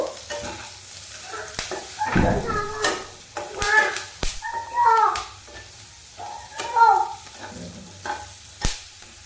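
Diced onions frying in butter and oil in a pan, with intermittent sizzling and stirring scrapes and clatters throughout, moderately loud and close.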